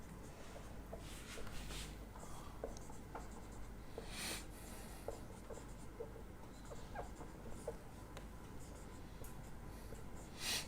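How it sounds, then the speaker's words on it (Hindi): Chalk or a marker taps and scrapes across a board in short, irregular strokes during a math lecture on reduction formulae for integrals, faint and close against a quiet room hiss. "मैं एक स्टेप ज़्यादा लिख दे रहा हूँ आपको समझाने के लिहाज से"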